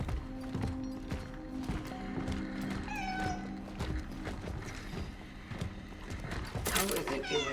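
Cats meow in the video game Cronos: The New Dawn: several rising and falling mews over dull, clopping footstep-like thuds and dark ambient game sound, with a sharp burst near the end.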